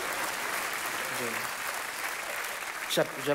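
An audience applauds in a continuous wash of soft clapping, fairly faint and steady, while a voice speaks briefly over it near the end.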